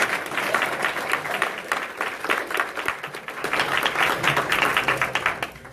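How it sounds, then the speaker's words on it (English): An audience applauds a speaker at a talk, dense steady clapping from many hands filling the room for several seconds, close and even. "Let's give another round of applause"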